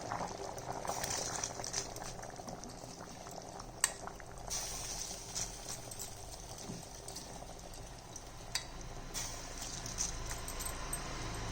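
Water boils in a pot for mutton biryani, a steady soft bubbling hiss that runs throughout with a few faint clinks of utensils, no voices.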